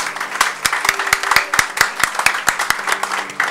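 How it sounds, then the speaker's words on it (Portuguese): A church congregation at a solemn Bible Day session claps in a loose, uneven burst, with sharp individual hand claps standing out near the microphone over softer clapping from the room. "Uma salva de palmas para o nosso Senhor Jesus."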